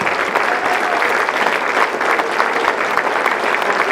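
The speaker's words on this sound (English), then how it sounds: "Big round of applause for Mitch Sylvester" Crowd at the Cowtown Showdown rally applauds for Mitch Sylvestre, a loud, dense, continuous patter of clapping from many hands holding steady throughout.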